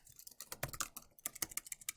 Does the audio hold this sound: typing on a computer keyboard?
yes